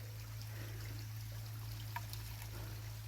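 Water pours into a bamboo tube packed with rice for cooking, a faint, steady stream over a low constant hum, with no talking.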